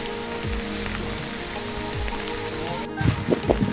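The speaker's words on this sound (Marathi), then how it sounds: "चांगलाच पाऊस पडायला लागलेला आहे" Steady rain falls on newly built red stone steps at Jarandeshwar, a dense continuous hiss of drops with a few louder close patters near the end and no voices.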